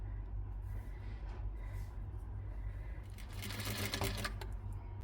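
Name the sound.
sewing machine stitching the sides of an umbrella-cut garment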